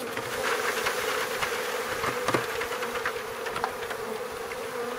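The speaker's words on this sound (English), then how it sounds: "Friendly bees, happy bees. Don't fly back to Flagstaff." A relocated wild colony of honeybees, five years old, hums steadily up close with no voices, a dense continuous drone with individual bees zipping past now and then.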